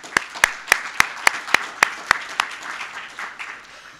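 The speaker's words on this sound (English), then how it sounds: "a round of applause for, for Jeff" Rhythmic group clapping after a talk at an academic event on forage legumes: about a dozen evenly spaced, crisp claps that soften and thin out toward the end.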